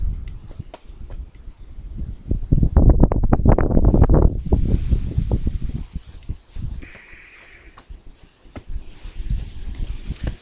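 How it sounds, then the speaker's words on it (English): Strong wind gusts buffet the microphone in rumbling bursts, loudest early on, then easing into lighter rustling flutters. "It's so windy, everything is blowing."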